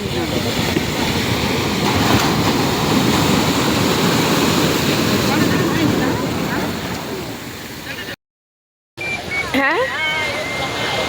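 Sea waves rush ashore at Digha beach in a loud, continuous roar of surf. After a short break, people's voices come in over the water.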